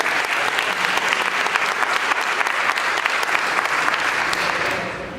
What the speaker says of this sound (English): please give my brother another round of applause